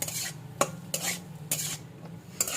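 Softened ingredients stirred in a covered cooking pan, a few distinct scraping and clinking strokes of a utensil against the metal over a faint low sizzle, close by and without talk.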